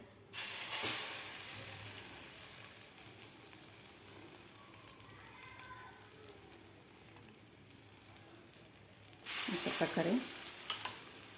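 Egg-dipped bread fries in a pan with a steady close sizzle and hiss, swelling louder at the start and again near the end with scraping stirs.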